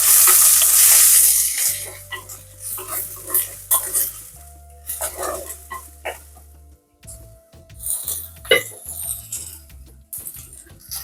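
Ginger garlic paste fries in a pan at home, a bright sizzle that rises and falls as it is stirred, with intermittent scraping and clatter, close by.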